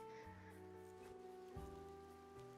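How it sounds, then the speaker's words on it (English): Rain falling in the video game Cattails: Wildwood Story, a soft steady patter spread beneath the game's tonal background music, continuous for the whole stretch with no voices. "And it's raining."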